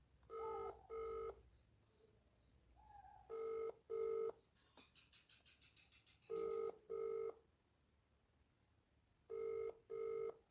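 An outgoing phone call rings back through the handset, with pairs of even tones repeating in a steady cycle separated by pauses, faint and electronic, with a brief flutter of other tones between rings.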